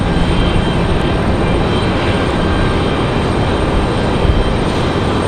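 Aircraft engines spooling up at Raleigh-Durham airport, a loud, steady, dense roar that stays even throughout with no voices over it.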